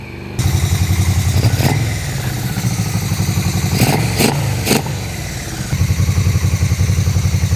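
A Yamaha Vmax motorcycle engine warms up with a steady, loud idle. Brief sharp blips break into the rumble around the middle and near the end, and the rough idle settles back in afterward.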